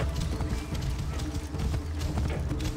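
A horse galloping in the video game Assassin's Creed Origins, with steady rhythmic hoofbeats that carry on throughout under a faint voice.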